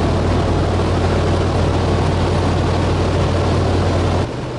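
Old Fairchild 24W light airplane engine held steady at approach power on base to final, a loud, constant low droning hum with propeller buzz that drops slightly near the end.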